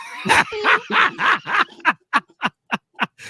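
A dog barks about a dozen times, loud and close. The barks come rapidly at first, then space out into a steady rhythm of sharp single barks.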